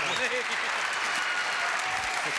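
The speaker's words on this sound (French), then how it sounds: "Applaudissements pour lui." Studio audience on a French television variety show applauds steadily for a guest, a dense continuous clapping that holds at an even level throughout.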